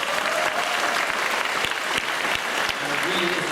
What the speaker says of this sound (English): it does deserve an applause because this is a remarkable achievement